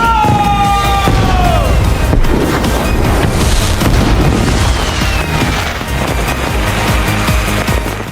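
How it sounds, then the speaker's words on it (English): Fireworks set off at Tokyo Tower in a zombie anime give loud, continuous booming with whistling rockets rising at the start, dense layered blasts rolling on throughout under a steady roar. "Akira rode to Tokyo Tower and set off the fireworks he had taken"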